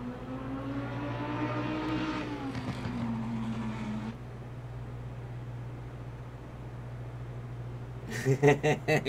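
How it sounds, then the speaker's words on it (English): A GT race car in the Assetto Corsa Competizione racing game, its engine droning high and rising with gear changes, then a steady low hum, followed by a burst of rapid, chattering thumps as the car runs over the curbing. "I love the way the car gets disrupted on the curbing."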